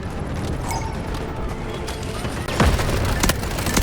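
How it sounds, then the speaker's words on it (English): Artillery barrage and gunfire in the shooter game Delta Force: a dense, continuous rumble of explosions with crackling shots on top and a heavier boom in the middle, loud and close. "Artillery barrage incoming."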